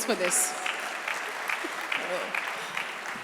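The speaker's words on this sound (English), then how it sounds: "We definitely deserve a round of applause for this." An indoor audience at a health and wealth talk for chartered accountants and their spouses applauds in a dense wash of clapping, with a few brief spoken words over it.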